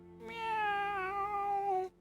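A single drawn-out meow, clear and close, rising slightly then fading after about a second and a half.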